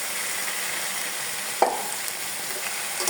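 Meat dropped into a pan of spice mix and frying, a constant soft sizzle with a brief clatter partway through, no voices present.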